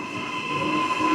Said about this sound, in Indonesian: Jalan juga nih kereta